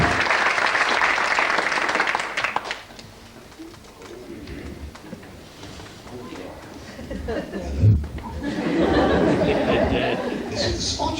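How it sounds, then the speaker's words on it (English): An audience at an amateur Snow White pantomime by the Bozeat Players claps loudly for the performers before the applause fades into chatter, with a speaking voice and renewed crowd noise returning near the end. "So let's give them a little clap."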